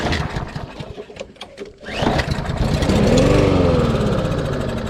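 Briggs & Stratton 550ex small engine fitted with a plastic carburetor, cranking in uneven pulls before firing and settling into a loud, close, steady running drone.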